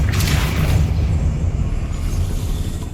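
A Depulso spell is cast in Hogwarts Legacy, a dense, rumbling magical boom that holds loud and steady for about three seconds.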